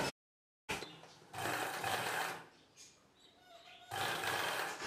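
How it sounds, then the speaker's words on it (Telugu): A sewing machine stitching a cross-cut piece onto the neck of a blouse, running in two close, steady bursts of about a second each, separated by quieter handling. "ఈ క్రాస్ పీస్ని నెక్ పీస్ పైవైపున పెట్టి కుట్టు వేసుకోవాలి"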